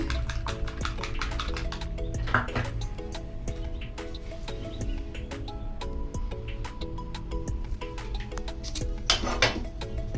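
Beaten egg whisked in a bowl for an egg roll, rapid rhythmic clicking and tapping of a utensil against the bowl, steady and close throughout with faint clinks and a low background hum.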